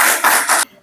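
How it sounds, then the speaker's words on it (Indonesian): A classroom group claps in a short burst of dense, loud applause that stops abruptly, leaving quiet room tone. "Beri tepuk tangan untuk kelompok 1."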